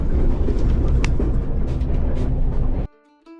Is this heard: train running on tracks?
yes